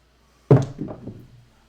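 Dice thrown in a craps game land with a single sharp thunk, followed by a short rattling tumble that dies away over about a second, close and alone with no talk.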